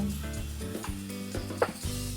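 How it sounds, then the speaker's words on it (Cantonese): Dried shrimp fry in a little oil alongside eggplant and garlic, a quiet continuous sizzle broken by a few brief scrapes and stirs. "煎一煎香咗啲蝦米先"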